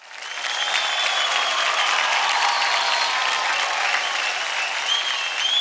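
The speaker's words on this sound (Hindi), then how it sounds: "तो जोरदार तालियां हो जाए।" A studio audience on the televised dance competition Dance India Dance applauds loudly and steadily, a thick continuous wash of clapping that swells in after a short quiet start, with faint cheering above it.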